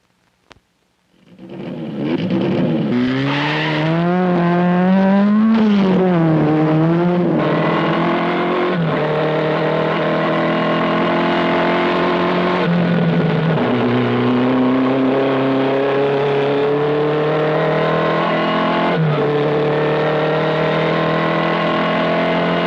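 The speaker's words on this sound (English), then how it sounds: "is testing a Stingray he will drive at the Daytona races" A Stingray race car being test-driven ahead of the Daytona races roars up close, its engine revving and climbing through gears in loud sustained acceleration, pitch rising and dropping with each shift for over twenty seconds.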